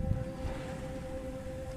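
Wind rushes steadily at sea aboard a sailboat, a broad continuous roar with a constant mechanical hum running underneath.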